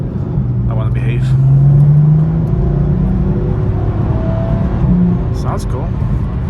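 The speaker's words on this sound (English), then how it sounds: "I'm gonna give it full acceleration right here." A 2019 BMW M4 accelerating hard from inside the cabin, its engine note rising and falling as it climbs through the revs, with a quick shift and a second pull at moderate loudness and a voice faintly present.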